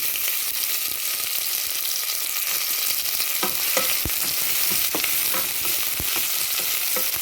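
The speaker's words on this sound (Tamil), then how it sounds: "இப்போ பச்சை மிளகாய் உண்டு, மற்றது வெங்காயத்தையும் போடுவோம்." Onion and green chilli fry in a pan, a dense continuous sizzle heard up close with occasional stirring knocks and scrapes, no voices.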